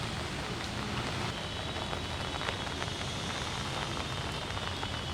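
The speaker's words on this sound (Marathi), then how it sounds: "सकाळपासून जो मुसळधार पाऊस कोसळतोय" Heavy rain pours steadily in Nashik beside the Godavari river during flooding, a dense, continuous hiss of drops close by with no break and no voices over it.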